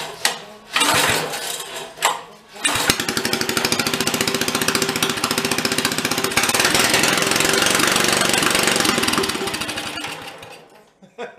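An old engine with its choke on, left for 40 years under a tree, sputters through a few rough pull-start attempts before catching into a loud, steady rapid chugging run that cuts off near the end.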